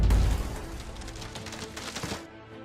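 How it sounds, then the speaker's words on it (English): A 24-pounder cannon firing chain shot with a double powder charge, as a sound effect: a heavy, loud boom at the start followed by rattling, crashing debris and a decaying rumble that cuts off. "Chain shot in the 24-pounder with a double charge of powder. Target their rigging. Fire!"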